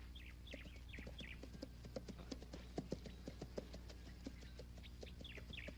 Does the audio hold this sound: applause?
no